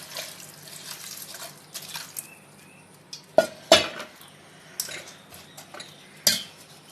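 Water goes into a pressure cooker holding banana flower, onion and green chilli for kootu, with a light pour and drips among sharp metallic clinks and knocks of utensils, a few louder clanks standing out near the end.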